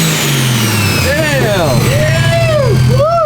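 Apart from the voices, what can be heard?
swapped Toyota 1JZ VVTI engine revving with blow-off valve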